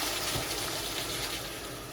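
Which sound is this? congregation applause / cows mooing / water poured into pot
water poured into pot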